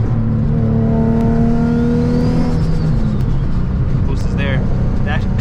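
A turbocharged 800 hp Nissan 350Z accelerating on boost, a loud steady engine drone rising in pitch from inside the car, with a brief whistle-like whine near the end and talk over it.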